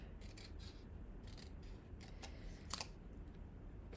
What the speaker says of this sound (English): we're going to cut this one in half